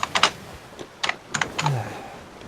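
A loud computer keyboard clacks in irregular clusters of sharp keystrokes, close and crisp, with brief pauses between bursts.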